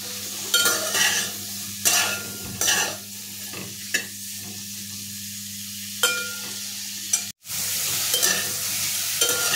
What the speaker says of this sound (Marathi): आणि त्याच्यामध्ये आपण कट केलेले मशरूम टाकून भाजून घ्यायचे।